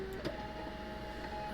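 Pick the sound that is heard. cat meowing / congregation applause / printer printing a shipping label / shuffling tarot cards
printer printing a shipping label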